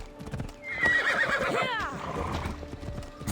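A horse whinnies loudly in the Assassin's Creed Odyssey video game, a long falling neigh over a running clatter of hooves, with a voice talking faintly underneath.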